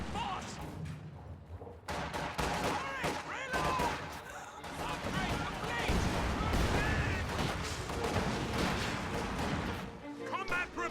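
Machine gun fire from DP machine guns in a World War II strategy game battle crackles in repeated bursts mixed with heavier booms, while a commentator talks over the fighting.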